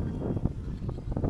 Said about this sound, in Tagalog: Grabe yung lakas ng hangin dito